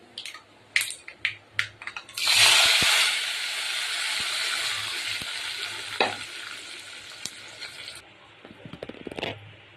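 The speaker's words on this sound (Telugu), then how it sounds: "పోపులన్నీ సాంబార్లో వేసుకుందాం" Hot tempering poured into a pot of sambar bursts into a loud, hissing sizzle that holds steady for several seconds and then fades, framed by a few clinks and taps before and after.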